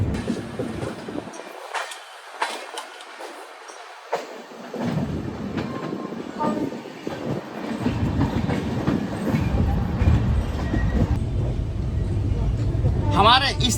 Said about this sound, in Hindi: अब हमारी ट्रेन अम्बाला कैंट पहुंचने वाली है।